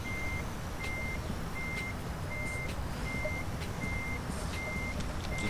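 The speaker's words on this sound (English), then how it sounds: "Oh, and by the way, the reverse sound is added." Reversing beeps from a truck in the UK Truck Simulator video game: a steady run of evenly spaced single beeps over a constant engine drone, with no talk.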